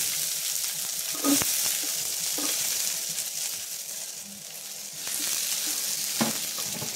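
Ginger, garlic and onion fry in a pan with a continuous soft sizzle, a few light knocks of a utensil standing out now and then.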